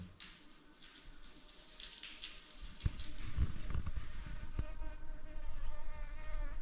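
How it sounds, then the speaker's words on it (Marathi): A housefly buzzes indoors near a kitchen where a vegetable dish is being cooked, its thin, wavering whine droning steadily for several seconds over a few soft knocks and clatters. "एक माशी आली आतमध्ये ती गुणगुण गुणगुण गुणगुण करते वरती"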